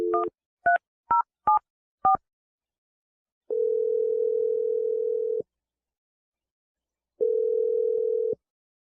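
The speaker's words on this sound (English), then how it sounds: "I'm about to dial the phone number right now." A telephone keypad sends five quick touch-tone beeps, then a steady dial-line tone sounds twice in long separate bursts, clear and isolated in silence.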